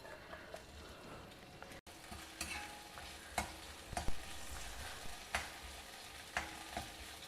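Chopped okra frying in a spoon of oil in a heavy kadai, a steady soft sizzle broken by louder scrapes and stirs every second or so, close and unaccompanied by voices.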